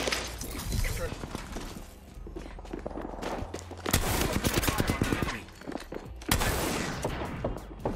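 Apex Legends gunfire in a squads match: loud rapid automatic bursts with scattered single shots and footsteps, broken by short pauses, with a voice talking over parts of it.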